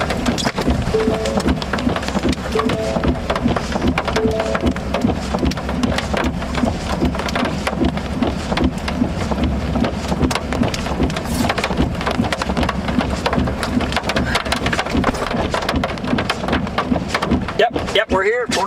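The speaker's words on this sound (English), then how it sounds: "Hail's falling." Heavy rain and hail pound down during an Oklahoma thunderstorm under a tornado warning, a dense, loud, continuous patter with rumbling low thunder and occasional voices talking nearby.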